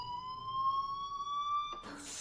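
Fire alarm sounding with a steady, piercing electronic tone held for nearly two seconds, then cut off by a burst of broadband noise.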